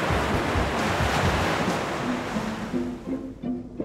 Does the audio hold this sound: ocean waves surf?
yes